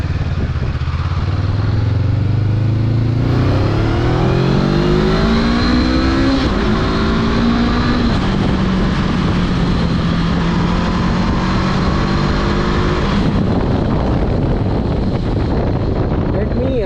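A 2021 Honda CB500X motorcycle pulls away from a standstill and accelerates hard through the gears, engine pitch climbing and dropping with each shift, loud and close under heavy wind noise.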